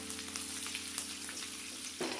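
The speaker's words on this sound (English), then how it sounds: "After that we'll add some ginger and chopped or slit green chilies and saute until the ginger has a nice aroma." Ginger and green chilies sautéing in a pan for vermicelli upma, a steady close sizzle of frying with light stirring clicks, loud and continuous without talk.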